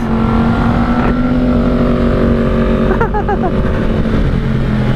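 A Yamaha R1 sport motorcycle's exhaust drones nearby with a steady, throaty engine hum and a brief rise in revs partway through.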